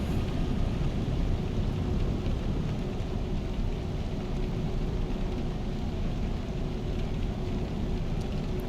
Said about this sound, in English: Nice to see some rain.